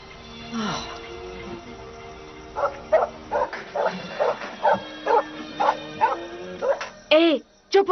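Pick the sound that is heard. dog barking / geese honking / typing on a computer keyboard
dog barking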